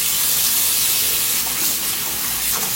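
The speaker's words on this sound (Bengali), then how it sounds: "এর জন্য ছোটখাটো অনেক কিছু আমি আসলে হাতেই ধুয়ে ফেলি" Small dishes washed by hand under running tap water, a steady close rushing hiss that continues throughout with no clear clinks and no talking.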